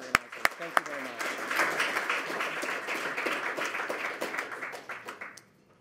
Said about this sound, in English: So please, a special round of applause for Microsoft, Google, and our event organizers.